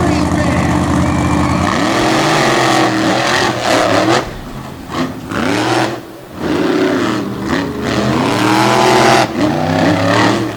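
Monster trucks race on a track at an all-star homecoming night at the TN/GA state line, with loud, close engines roaring and shifting pitch continuously beneath an announcer's steady commentary.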